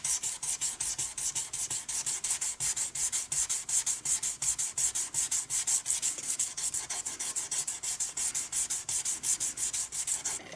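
Fine 1500-grit sandpaper wrapped around a piece of art gum is rubbed over guitar frets, giving a steady, close rhythmic rasping of quick back-and-forth strokes with no talk.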